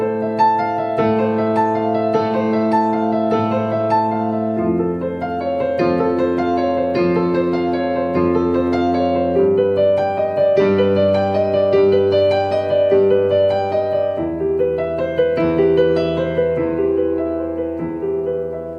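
A piano plays a flowing, continuous arpeggio pattern reinforced with heavy low octaves, loud and close throughout, and the bass shifts to new notes every few seconds with no talking.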